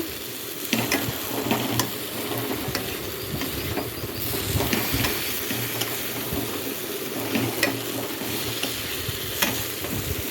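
Spiced masala being sautéed in a pan, a continuous close sizzle with frequent scraping and clinking stirs throughout, no one speaking.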